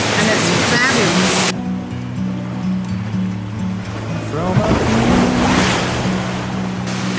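Ocean surf washes continuously at Speightstown, Barbados, with waves breaking nearby beneath a voice talking over the steady wash.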